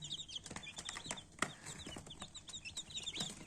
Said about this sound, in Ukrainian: Дивіться, курчатка у нас. Всі живенькі, всі активні, всі здорові.